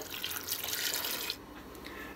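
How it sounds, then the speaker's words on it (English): A beef-and-broccoli sauce mixture of uncertain makeup pours into a slow cooker pot with sliced beef strips and diced brown onion, giving a steady close liquid splashing stream that cuts off abruptly partway through, followed by a few faint drips. "And pour over our sauce mixture."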